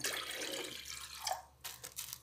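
A cup of water poured into a garlic pickling brine made with apple vinegar and salt, a soft splashing trickle that fades and ends with a few light drips, quiet and close.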